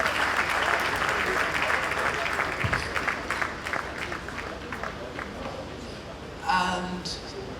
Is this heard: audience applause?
yes